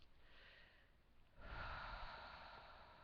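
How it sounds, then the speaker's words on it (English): A deep breath drawn during a guided EFT tapping exercise, starting as a quiet airy hiss and swelling about halfway through into a fuller, sustained rush of air that slowly fades. "Take a deep breath"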